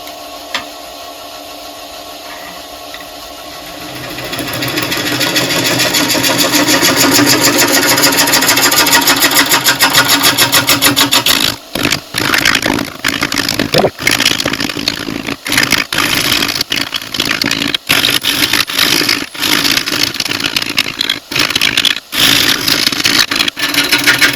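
Yew blank spinning on a wood lathe as a gouge cuts along it, a continuous loud scraping hum that rises after a few seconds and then breaks into choppy, interrupted cutting bursts, close-up with no speech.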